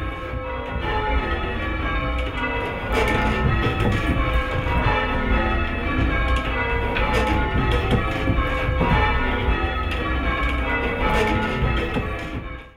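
Church bells rung in sequence by a band of twelve ringers, a dense, continuous peal of overlapping bell tones at steady volume, with no talk.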